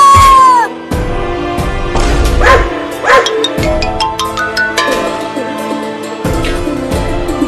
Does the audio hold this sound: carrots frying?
no